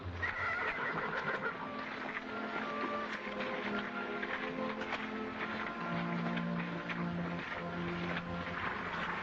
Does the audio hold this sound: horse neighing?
yes